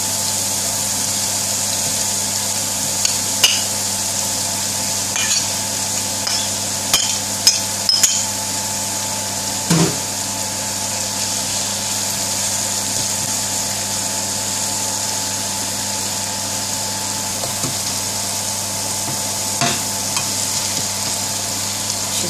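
Chopped onion frying with chicken hearts and cardamom for an Indian Bengali-style bhaji, a steady close sizzle with a few sharp clinks and stirring knocks scattered through.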